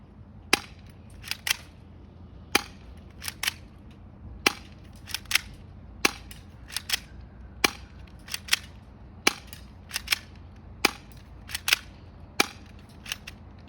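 Sharp, snappy toy gun shots pop close by, around twenty in all, fired at uneven intervals over a quiet hum.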